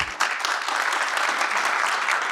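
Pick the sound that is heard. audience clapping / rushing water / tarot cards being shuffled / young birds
audience clapping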